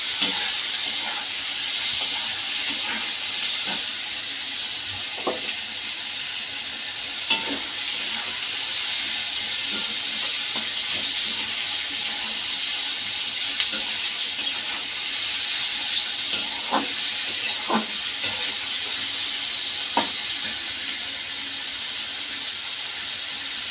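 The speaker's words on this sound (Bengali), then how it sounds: "পেঁয়াজটা হালকা লাল করে নেব।" Onions sizzle and fry steadily in a pan, a constant hiss with occasional small pops and stirring clicks, close and alone without talk.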